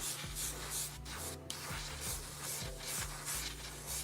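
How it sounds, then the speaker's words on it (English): An airbrush sprays a quick primer coat onto a Hobby Boss model kit, making a steady close hiss broken by short pauses as the brush passes back and forth, with no talk. "I move the airbrush pretty fast. I'm kind of I'm in a hurry, so I'm kind of blasting."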